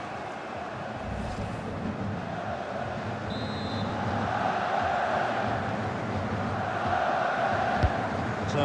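The stadium crowd in FIFA 22 during a Lyon versus PSG Ligue 1 match keeps up a steady distant roar that swells a little louder partway through, under faint commentary.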